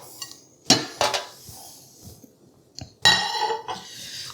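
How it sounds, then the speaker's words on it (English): Garlic bread and food, cooked in a Midea dual-zone air fryer, are set onto a plate with several sharp clinks and clatters of dish and utensil, in bursts with quiet gaps between them and no voices. "I'm gonna go ahead and put our garlic bread onto this."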